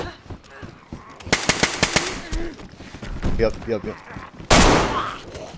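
Rapid automatic gunfire in the DayZ video game crackles in close bursts, with a final loud volley near the end; a player's voice talks tensely over it.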